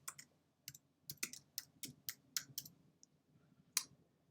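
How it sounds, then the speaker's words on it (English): Computer keyboard keys tapped one at a time while an email address is entered at a sign-in screen; about a dozen soft, close clicks in an uneven rhythm, with no one speaking. "I'm going to type in the email address associated with my"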